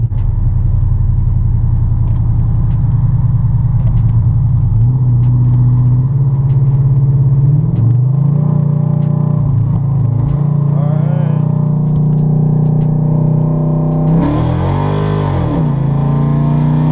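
A cammed car's engine roars loudly and close up during a hard acceleration pull, its pitch climbing steadily before dropping sharply at each gear shift, then building again.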